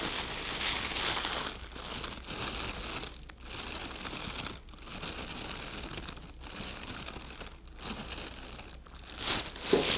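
A plastic bag crinkles steadily as someone breathes into it during a rebreathing exercise for a panic attack, with rhythmic dips where the bag deflates and refills, close and moderately loud, with no talking.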